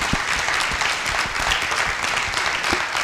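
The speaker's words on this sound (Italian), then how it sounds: "noi vogliamo farvi a voi un grande applauso" An audience applauds children at a youth basketball event, dense sustained clapping from many hands filling the space, loud and steady throughout.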